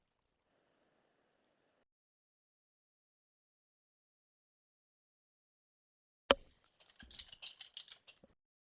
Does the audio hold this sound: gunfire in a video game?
no